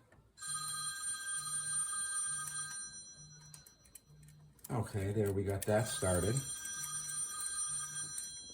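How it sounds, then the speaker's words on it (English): A telephone rings repeatedly in a home garage during a Triumph TR6 engine build, bright electronic bursts in a regular pattern, with someone talking over it partway through. "The phone is ringing."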